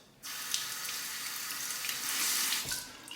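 A bathroom tap runs steadily as a razor is rinsed during a wet shave with a Parker 66R safety razor, a bright continuous splashing rush that starts abruptly, swells slightly, then dips near the end.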